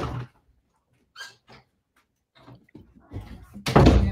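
A door opens to let a loud house cat into the room, giving a few soft thumps and rustles that build into a louder clatter and burst of noise at the end, with no talk.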